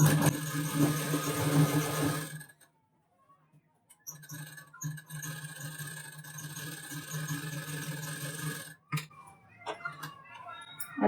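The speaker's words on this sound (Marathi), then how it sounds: "परत डबल शिलाई करून घ्यायचं आहे म्हणजे आपली लेस उचकणार नाही किंवा उकलणार नाही" A sewing machine runs a double line of stitching over lace on a one-side blouse, a steady close mechanical whir with light ticking that stops briefly around the third second, then resumes to the end.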